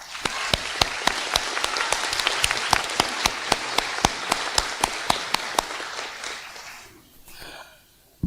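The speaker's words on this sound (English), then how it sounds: "So please give them a big round of applause." Sustained applause from a crowd at a high school graduation ceremony, dense clapping with sharp regular claps standing out near the microphone, fading toward the end with a brief quieter tail.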